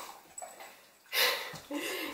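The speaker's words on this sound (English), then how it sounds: "I've got the puppy and he's having a little zoomy moment" A puppy in a burst of zoomies gives a few soft whimpers, then a loud yip followed by further whiny yelps, close up in a quiet room.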